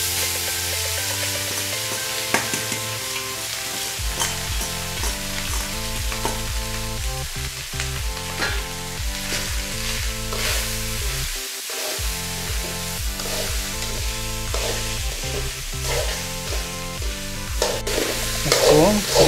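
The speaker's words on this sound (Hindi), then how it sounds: "धीरे धीरे हिलाते रहना है करीब 2 से 3 मिनट तक, 2 से 3 मिनट तक इसको इसी प्रकार से हिलाएंगे।" Rice and masala stirred and frying in a pan, steady sizzling with repeated scraping strokes of a spoon, close and continuous throughout.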